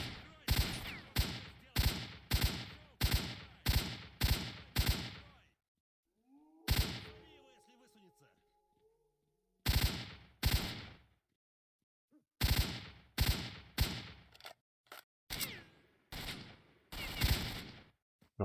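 Gunfire from a weapon in the video game S.T.A.L.K.E.R. Shadow of Chernobyl: loud bursts of rapid shots in clusters, broken by pauses with quieter game sounds, then more volleys.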